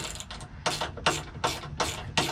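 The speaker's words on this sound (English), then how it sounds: "socket and ratchet. We're just going to bring down the first bolt." A 7/16 socket on a 1/4-inch drive ratchet tightens a bolt on a Kubota BX Curtis cab side mirror, giving several rhythmic ratcheting strokes of clicking pawl, loud and close.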